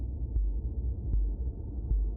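Heartbeat sound effect in the video game Subnautica: low, muffled thumps about every 0.8 seconds over a steady low droning hum, three beats in all, with no voices.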